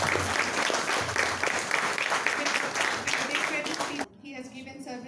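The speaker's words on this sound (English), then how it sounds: "A big applause to him." An audience at a Mobility India event applauds steadily and loudly for about four seconds before the clapping suddenly stops, leaving quieter room sound.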